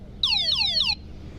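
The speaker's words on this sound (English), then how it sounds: "if someone tries to touch your power button, alarm goes off" Anti-theft alarm on a Project Flash 3000W e-bike/moped sounds a loud, shrill electronic warble, two rising-falling sweeps repeating for under a second before cutting off abruptly.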